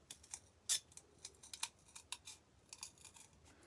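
Snipping cuts into thin wood or board while cutting out a circle for a rustic birdhouse, a string of short, crisp clicks at an uneven pace with one sharper snip near the start, close and fairly quiet.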